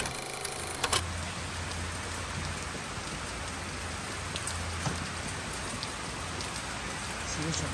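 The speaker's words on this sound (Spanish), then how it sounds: "Sigue lloviendo, amigas y amigos," Steady torrential rain pours down in a constant dense hiss, with occasional louder drips and splashes nearby.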